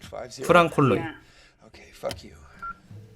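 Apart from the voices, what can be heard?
telephone keypad dialing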